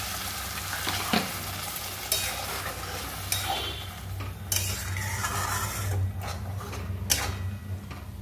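A tomato potato posto dish fries in a pan as a little water is added, producing a steady sizzle with periodic scraping stirs of a spatula against the pan, close and moderately loud, no talking.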